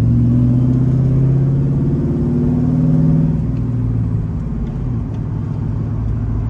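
A Toyota 86 on the road, its engine a steady low rumble with smooth mid-speed cruising heard from inside the car, loud and continuous with no talking.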